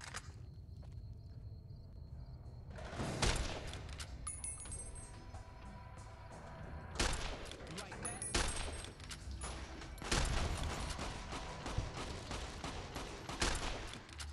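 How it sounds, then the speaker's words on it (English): Gunfire in the video game Fallout: New Vegas, with bursts and clustered shots at point-blank range that rise and fall over a busy, noisy mix of game sounds. "just stand there shooting each other point blank range"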